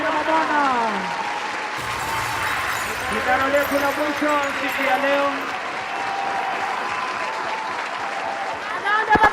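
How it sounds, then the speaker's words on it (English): Crowd applauding the race winners at a medal ceremony of the Agnes Tirop memorial World Cross Country Tour in Lobo Village, Eldoret, steady clapping running the whole time beneath a loud announcer speaking over a PA. "Tuwapigie makofi tena washindi."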